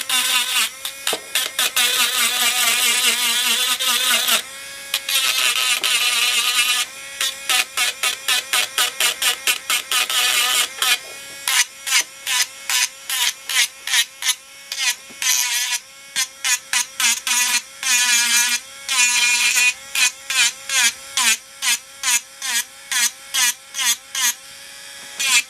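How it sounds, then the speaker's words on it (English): A Dremel rotary tool works on a broken plastered doll, buzzing in short, repeated high-pitched bursts with brief pauses between passes, loud and close throughout. "So I've got the Dremel out, and let's just start."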